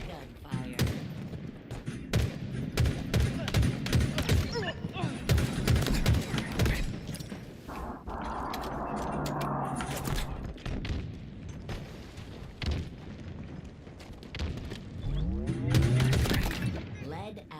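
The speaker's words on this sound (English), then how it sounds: "Hail of gunfire." Rapid bursts of gunfire in the shooter game Halo Infinite crackle in dense volleys with sharp impacts and booms, loud and busy for the whole stretch, with a voice talking over parts of it.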